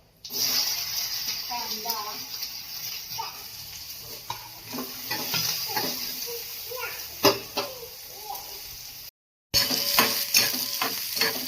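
Onion frying in ghee in a pan, a steady close sizzle with intermittent scraping and stirring strokes, and a voice talking over it now and then.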